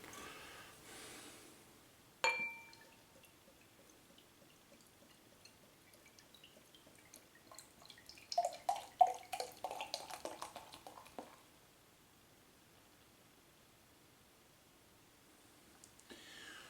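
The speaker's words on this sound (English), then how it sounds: "let's get the Old Peculier out of the bottle into the glass" Theakston Old Peculier ale poured from a bottle into a glass: a sharp clink, then a burst of glugging, splashing liquid mid-way that fades to quiet, close and fairly loud, with no talking.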